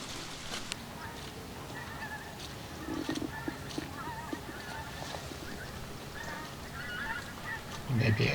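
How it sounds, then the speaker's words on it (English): Distant geese honk intermittently as they fly overhead in Wheelton Plantation woodland, faint calls scattered across the clip, with a brief louder rustle near the end. "You may be able to hear the sound of geese"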